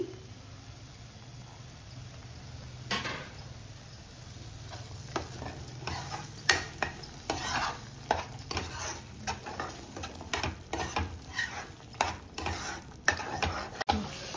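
Yogurt being stirred into a frying paneer butter masala base of ground cashews and almonds, a spoon scraping the pan in steady irregular strokes over a soft continuous sizzle, close and moderately loud.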